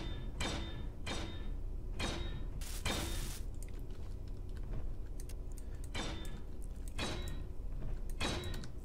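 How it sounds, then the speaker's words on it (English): Blocks being welded in the video game Space Engineers, heard as a series of short mechanical bursts repeating roughly once a second, with a brief pause midway, fairly quiet and unaccompanied by speech. "Let's get these things welded up."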